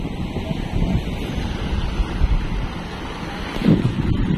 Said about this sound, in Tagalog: Sobrang lakas po kasi ng hangin.